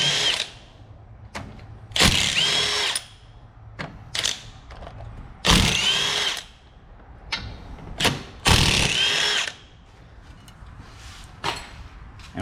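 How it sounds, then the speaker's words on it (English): A power tool whirs in repeated short bursts while unbolting the five wheel bearing bolts from a car's steering knuckle, loud and close, separated by quiet pauses and small metallic clicks. "you'll be unbolting the 5 bolts that hold the wheel bearing to the steering knuckle"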